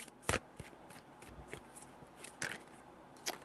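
Tarot cards are shuffled in a few separate bursts of crisp riffling and slapping, close and fairly quiet, with soft rustles between them.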